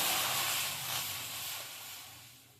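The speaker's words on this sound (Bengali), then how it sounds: "এবার কড়াইয়ে আমি জল দিচ্ছি" Water poured into a hot kadai on the stove bursts into a loud, broad hiss of steam that gradually fades over a couple of seconds.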